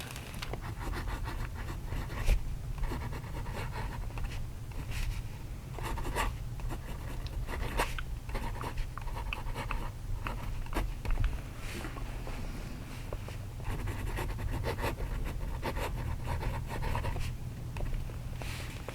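A Platinum Pocket fountain pen nib scratches across paper in steady, close strokes, a continuous papery scritch with brief pauses between words, alone and without talk.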